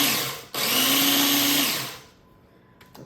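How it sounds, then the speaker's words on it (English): A food processor grinds ginger snaps into fine crumbs with a loud, steady motor whir that cuts out briefly, roars again for over a second, then winds down to quiet with a few faint clicks. "you just really want to grind it up really, pretty much like a fine crumb"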